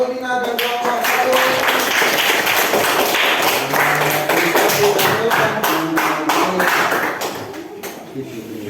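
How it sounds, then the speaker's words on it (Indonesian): A classroom of students applauds a group, with quick, rhythmic, fairly loud clapping that holds for several seconds and then thins out, with voices mixed in. "Tepuk tangan untuk Lina dan kelompok 1."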